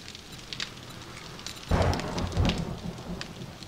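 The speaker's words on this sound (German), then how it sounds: "Gewitter." Thunderstorm with rain in the video game 7 Days to Die, a steady patter of rain under a sudden rolling rumble of thunder that swells midway and lingers.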